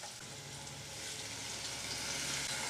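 Half a cup of water poured into a pan of sizzling egg masala curry, giving a loud steady hiss and bubbling sizzle that builds slightly over a few seconds, with no talking.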